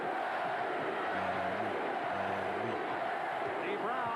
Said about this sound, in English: The crowd couldn't help but chant the name of the greatest player of all time.